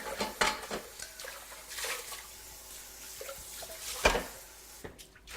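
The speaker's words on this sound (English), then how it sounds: "I'm going to rinse this out" Tap water runs into a mixing bowl as it is rinsed out in a kitchen, a steady close wash of splashing with a few brighter knocks and clatters of the bowl, and no talking.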